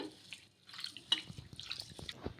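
Rice being rinsed by hand in water two or three times before soaking, with wet sloshing, splashing and dripping at close range, in irregular bursts with no talk.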